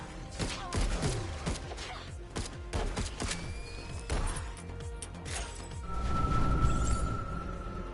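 Enemy shotgun blasts in Returnal, a series of sharp, heavy booming shots among crashes and mechanical clatter, loud and irregular, ending in a rumbling swell with a sustained tone.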